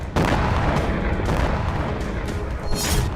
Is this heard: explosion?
yes